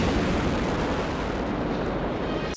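A continuous roaring blast, loud and dense, rumbling steadily for a couple of seconds before cutting off abruptly.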